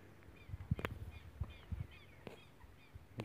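Several harsh, clucking calls of common moorhens in short bursts from a wet outdoor spot near a reservoir, with faint higher chirps and background rustle.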